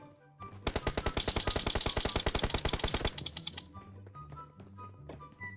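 Rapid automatic gunfire in a PUBG game at the Livik map, a loud steady burst of about two and a half seconds of evenly spaced shots, then quieter scattered game noises.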